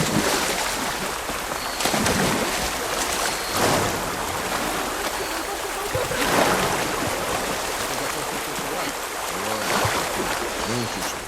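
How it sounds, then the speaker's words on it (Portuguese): A waterfall in the video game Horizon Forbidden West roars as a steady, dense rush of falling water, loud and continuous throughout, with a few soft swells and faint game sounds underneath. "Ah, uma cachoeira"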